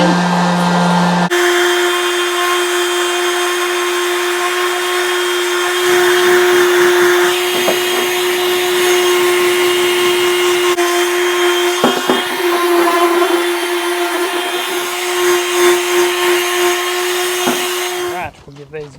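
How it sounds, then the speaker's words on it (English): A power sander works on metal brackets with a steady whining hum that shifts pitch as pressure changes, loud and close, cutting off near the end. "I'll get these brackets and I'll give them all a bit of a"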